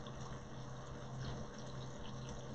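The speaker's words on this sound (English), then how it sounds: "Now, that's a boil, people." A steady, faint bubbling and hiss of liquid at a rolling boil in a pan for Spanish-style garlic shrimp, continuous and even throughout.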